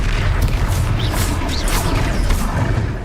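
A Confringo explosive spell blast in Hogwarts Legacy, a dense, rumbling boom with crashing debris roaring continuously for a few seconds.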